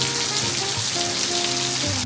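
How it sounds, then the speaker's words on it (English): Heavy rain pours down in a dense, steady hiss and patter at close range, loud and unbroken throughout, with faint tonal hums running beneath it. "it is literally raining like this every single day"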